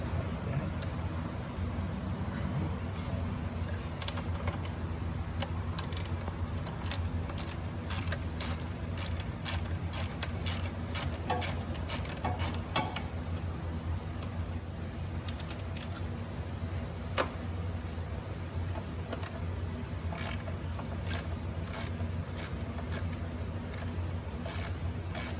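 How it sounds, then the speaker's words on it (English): Rapid, steady clicking of a ratchet with an 8 mm socket working on a 2011-2014 Ford Mustang purge valve, close and continuous for the whole stretch with no talking. "What you're going to need is a ratchet and a socket that's 8 millimeters"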